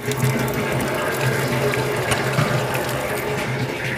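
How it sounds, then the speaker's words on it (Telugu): A water softener draws in salt water during cleaning, giving a continuous loud gurgling, sucking rush with mechanical rattling throughout, close by. "సో అది ఈ విధంగా మనకి వాటర్ని సక్ చేసుకోవడం స్టార్ట్ చేసింది."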